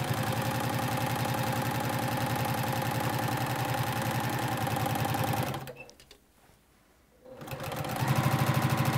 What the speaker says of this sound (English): Now we're gonna sew back to the top.